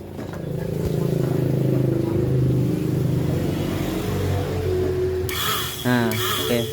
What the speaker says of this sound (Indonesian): sekarang dia muter kembali ya untuk dinamonya, berfungsi kembali